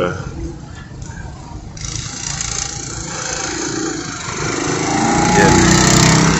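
Go-kart engines run in a steady, mid-pitched drone that swells and grows louder toward the end, as though the karts are coming closer, with some background noise mixed in.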